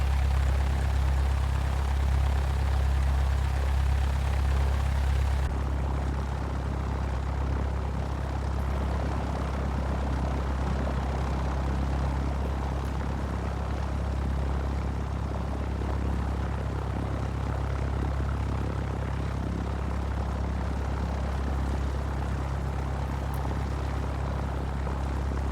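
A Cessna 172 engine idles steadily in the X-Plane 11 flight simulator while warming up, a constant loud low propeller drone with a brief throbbing pulse at the start and no speech.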